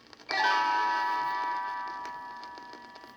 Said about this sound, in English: You will know it is time to turn the page when Tinker Bell rings her little bells like this.